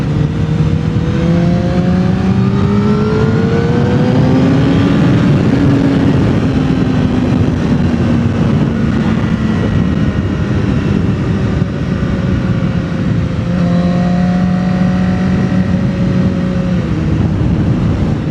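A Honda CBR Fireblade motorcycle engine while riding gives a loud, continuous drone that climbs and falls in pitch as the revs change, with steady wind rush throughout.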